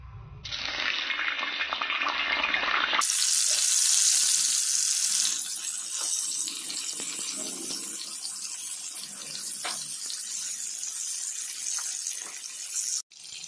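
Eggplant slices hit hot oil, setting off a loud, bright sizzling hiss about three seconds in that holds steadily until near the end, after a shorter rushing hiss at the start.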